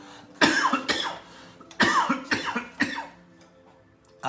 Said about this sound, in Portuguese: Estou com pigarro.